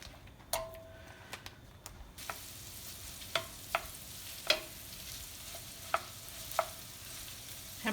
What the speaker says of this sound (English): I'm going to put in my meat as my skillet's heating up